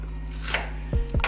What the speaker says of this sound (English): I'm gonna just chop up some onions real quick.